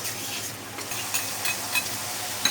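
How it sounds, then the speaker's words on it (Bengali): Spices stir-frying in hot oil, a steady soft sizzle with light intermittent scrapes of a spatula against the pan, close and fairly quiet, no voices. "তেলের মধ্যে সব মশলাগুলো দিয়ে এবার ভালো করে মশলাটাকে কষাতে হবে"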